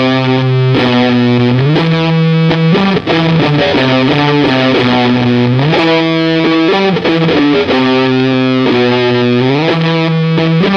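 An electric guitar runs through an MXR Blue Box fuzz pedal on its 7th Army Fat Fuzz setting, playing a loud, thick, buzzing lick of sustained bent notes and quick phrases that fill about ten seconds without talk.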